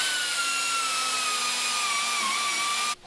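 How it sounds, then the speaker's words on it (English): A power tool grinds out spot welds on a car bracket, giving a steady, loud, high-pitched whine with a faintly drifting tone that cuts off abruptly at the end. "I'm gonna use this tool, which I like, to grind out the spot welds"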